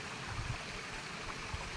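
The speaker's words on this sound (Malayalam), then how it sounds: "ഒരു അരുവി കേട്ടോ" A small forest stream gives a faint, steady rush and burble with no other distinct sound over it.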